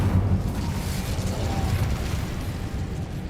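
A fire spell cast in Hogwarts Legacy, a dense, roaring whoosh with a heavy low rumble that stays loud and sustained throughout, like a burst of flame swelling and holding.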